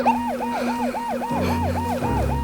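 A rescue vehicle's siren wails in a steady repeating up-and-down cycle, loud and close, with an engine rumble growing beneath it toward the end.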